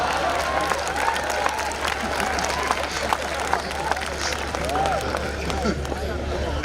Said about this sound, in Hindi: और तालियां तो आपकी अब उठेंगी